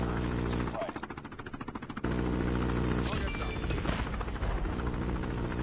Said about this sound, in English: How about another chopper gunner, huh?